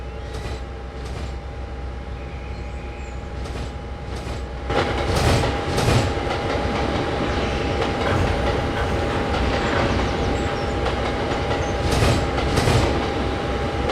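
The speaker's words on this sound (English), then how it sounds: "Waiting for our train to pass." Rolling clatter of a long train passing in a train simulation game, steady rail noise with rhythmic clickety-clack, growing louder partway through and continuing alone without talk.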